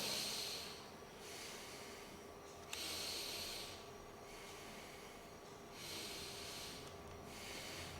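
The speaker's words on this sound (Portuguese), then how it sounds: "Respiração abdominal." Slow abdominal breathing, close and quiet, with long breathy inhales and exhales that swell and fade in a steady rhythm over a faint background hum.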